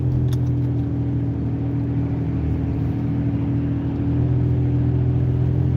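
Inside a car in traffic, a steady, moderately loud engine hum builds gently as the vehicle picks up speed, with low road rumble throughout and no talking.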